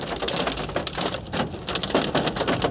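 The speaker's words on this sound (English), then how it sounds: "It's just started hailstoning." Hail starts falling at a theme park resort, a dense, steady patter of small impacts that stays loud and unbroken the whole time, with no voices.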